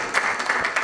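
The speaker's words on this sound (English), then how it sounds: "Please, a round of applause for her." Brief burst of audience applause in a television studio panel setting, dense clapping with a few sharper individual claps standing out.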